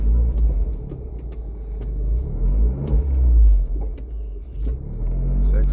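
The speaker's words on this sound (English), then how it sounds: "It's exhaust system, record Monza, 4 pipes." An Abarth 595C with its roof open, breathing through a four-pipe Record Monza exhaust, rumbles with a deep engine note that swells in a throttle blip and stays loud throughout, with a voice talking over part of it.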